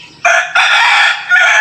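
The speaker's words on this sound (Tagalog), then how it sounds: "Texas po ito. Texas na manok sa gubat." A Texas-breed rooster crows loudly and close by, a strained, rising call broken into a couple of bursts, with no other sounds around it.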